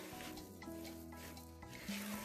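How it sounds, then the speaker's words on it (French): Ghribia cookie dough being stirred with added vanilla, a steady scraping and rubbing of spoon against bowl running continuously and close, with no talk. "Je continue à mélanger."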